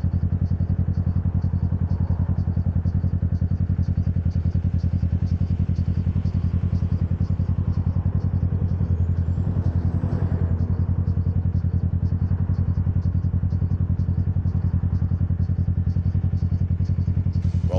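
Motorcycle engine running steadily while riding in traffic at an intersection, a constant close mechanical drone with a rapid ticking rhythm, and a brief louder swell midway.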